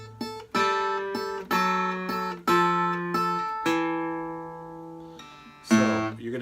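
A guitar plays a descending blues bass line with shuffled triplet rhythm. The single plucked notes and chord stabs ring out close and clear, then a final strum is heard.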